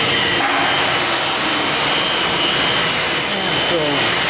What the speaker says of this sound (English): spent coffee ground and into a PT16 press. Picked this one because it happens to have a high torque gearbox